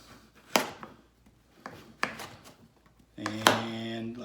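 A knife chops through butternut squash on a board, several separate firm cuts at irregular spacing, close and fairly loud, with the last cut more drawn out and carrying a tonal ring.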